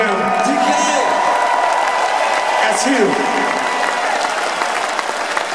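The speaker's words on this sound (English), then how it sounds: "So I'd like for you to give this man a big round of applause" Loud, steady audience applause and cheering fill a concert crowd in Prague, continuing throughout while a voice speaks briefly over it.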